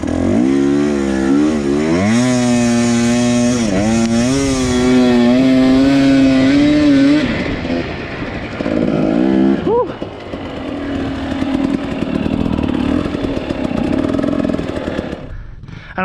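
GPX Moto 250 dirt bike engine running rough and revving outdoors on a hill climb near Green River, Utah, with wavering, uneven engine tones that rise and dip, then settle into a rougher low idle, with some talking over it.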